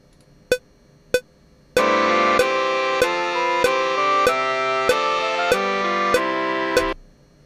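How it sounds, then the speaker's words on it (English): A standard metronome click ticks twice alone, then keeps an even beat about every 0.6 seconds under sustained Bach chorale chords that stop together with it. "here's the sound of the click that I used."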